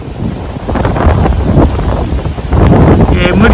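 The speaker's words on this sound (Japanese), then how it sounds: "ただ風は冷たく、強いので、非常に走りにくいです。" A strong, cold wind roars and buffets the microphone while someone rides a 50cc moped through Ehime and Kochi in Japan. It is a loud, continuous rushing that swells and dips without pause.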